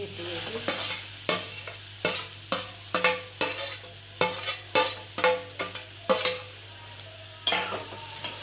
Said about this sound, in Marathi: आता ह्याला व्यवस्थित पूर्ण सुका होईपर्यंत आपल्याला हे भाजून घ्यायचं आहे हलवत राहायचं सतत